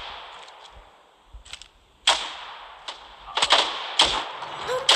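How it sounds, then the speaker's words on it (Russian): Gunfire in a video game: several sharp, cracking shots arrive irregularly, some singly and some in quick pairs. They are loud and close over a faint background hum, with no voices. "Да он даже не в меня стрелял"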